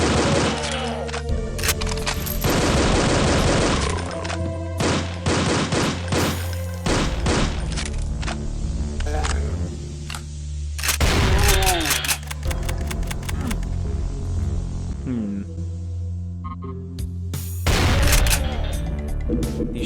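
A shotgun fires repeatedly in a Doom 2 mod, with sharp booming blasts and reloading clatter mixed with other game sounds and music, while someone talks over much of the action.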